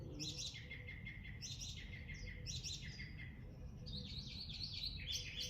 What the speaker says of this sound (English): I love hearing these birds sing.